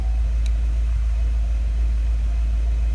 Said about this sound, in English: Idling perfectly smooth,